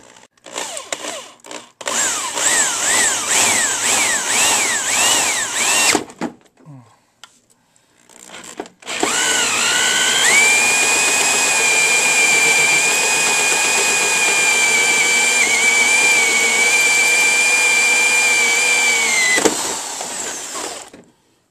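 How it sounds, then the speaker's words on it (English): A power drill with a metal bit whines loudly in short bursts, pauses, then runs in one long sustained high-pitched grind through metal on an arcade push-button panel before stopping. "drill right through here with our metal bit"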